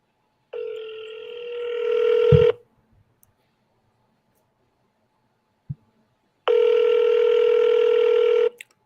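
An unanswered outgoing phone call to a seller: two long, loud electronic ringback tones separated by a silent gap and a brief click, heard alone without voices.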